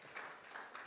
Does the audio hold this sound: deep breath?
no